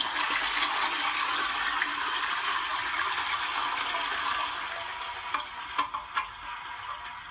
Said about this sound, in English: that was water dumped into a bucket